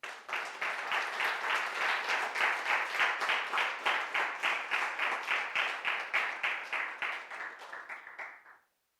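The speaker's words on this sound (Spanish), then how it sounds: "Que le da un fuerte aplauso al Señor." Worshippers in a church give a strong round of applause to the Lord, clapping in a steady, rhythmic unison beat that pulses evenly for several seconds before stopping abruptly.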